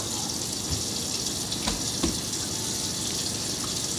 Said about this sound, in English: I'm just washing my hands because it's so gross.